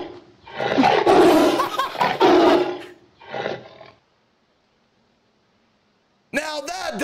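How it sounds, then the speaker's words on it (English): A tiger attacks in an indie video game, letting out loud, rough roars in two bursts, a long one then a shorter one, followed by silence and then a brief vocal outburst near the end. "Ah, fucking tiger attack!"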